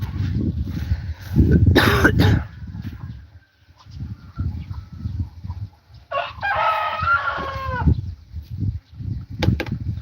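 Farm chickens in Aklan cluck and call in bursts, with a rooster-like crow in the middle and scattered scratching and rustling around them, fairly close and with no talk.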